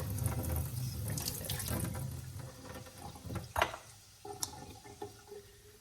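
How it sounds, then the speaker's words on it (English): Cold tap water pours steadily into a sink, with rice being swished and rinsed under the stream, a few small clinks and drips as it eases off. "we just rinse it under cold water"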